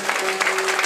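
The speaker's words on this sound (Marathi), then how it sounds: "हो, टाळी वाजा." An audience at a Bhagwat Katha religious discourse applauds: a brief, dense burst of many hands clapping together, steady and fairly loud.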